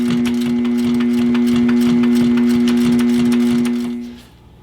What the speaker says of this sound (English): run a few lines of stitching back and forth here